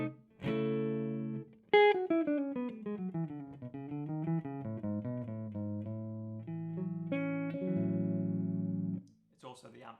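Electric guitar played through a Henriksen Forte tube amplifier in a room, clean picked chords and a melodic run of single notes with sustained ringing tones, heard alone at moderate volume.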